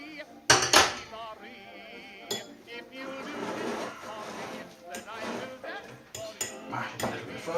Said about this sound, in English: Mash it a little bit further.